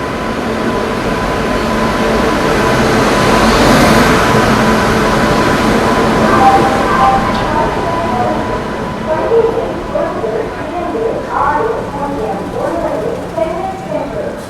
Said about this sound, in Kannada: ಇದು ನಮ್ಮ ಮೈಸೂರು ಎಕ್ಸ್ಪ್ರೆಸ್ ಟ್ರೈನ್ ನಂಬರ್ ಬಂದು one two six zero nine ಚೆನ್ನೈಯಿಂದ ಮೈಸೂರಿಗೆ ಹೋಗುವ